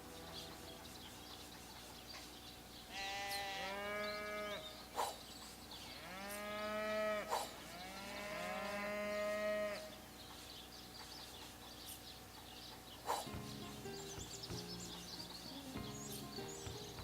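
Sheep bleat in the fantasy video game Divinity: Original Sin, a few drawn-out, wavering animal calls rising and falling over a quiet ambient backdrop, with low thuds and a soft game soundscape between them.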